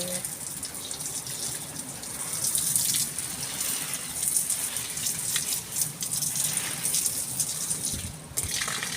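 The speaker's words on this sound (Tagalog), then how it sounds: "Ayun na ang water natin." Garden tap running in the open on a cool morning, a steady broad gush of water pouring continuously, with brief voices nearby.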